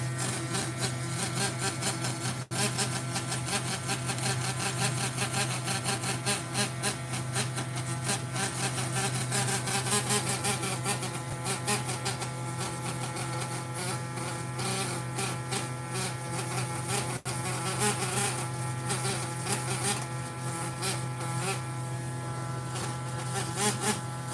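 Dremel rotary tool grinding an Alberta ammonite fossil: a steady, close, high-pitched buzzing whine that runs continuously with slight wavering and no pauses.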